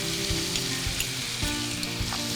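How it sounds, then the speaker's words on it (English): Ground beef sizzles steadily in a hot pan while the back of a spoon breaks it up, with soft scraping knocks every half second or so over the continuous frying hiss, close and clear. "we're just gonna break up this beef with the back of a spoon until it's all nice and brown"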